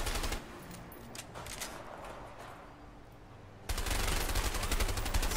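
Gunfire in the A Way Out video game: scattered sharp shots over a low background, then a sudden burst of dense rapid automatic fire in the last two seconds, loud and continuous.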